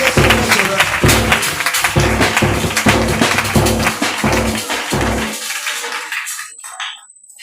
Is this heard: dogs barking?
no